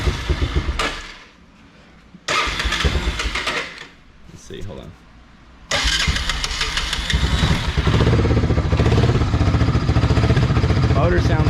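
A Honda 300 Fourtrax 4x4 ATV engine with no gas tank cranks and catches, then settles into a loud, steady idle with some skipping, close by, while someone talks over it.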